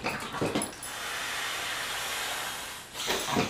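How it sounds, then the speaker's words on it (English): Air is blown by mouth into the nozzle of an inflatable sit pad in one long steady breathy rush. Brief fumbling rustles come at the start and end, up close and with no talk. "Give it a blow, add a little extra air in there."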